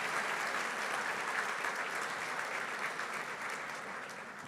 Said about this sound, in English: Katie, they want to clap for you.